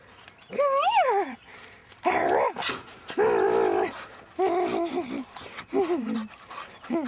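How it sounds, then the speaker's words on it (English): A dog playing frisbee outdoors pants and whines close to the microphone in several bursts, with short pauses between them, and no voices are heard. "I love this dog."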